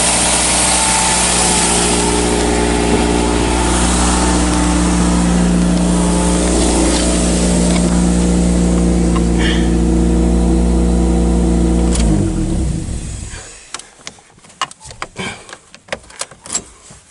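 A Toyota Celica engine idles with a steady rumble and revs, then cuts off after about twelve seconds, leaving scattered clicks and handling noises.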